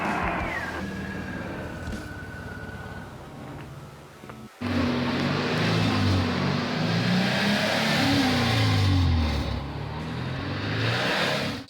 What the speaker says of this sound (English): car's still been running very rough, misfiring, and seems to be running super rich